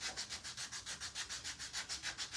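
Sandpaper rubbed back and forth by hand over a wooden tabletop with inlay work, in a fast, even rhythm of about six strokes per second, close and fairly soft.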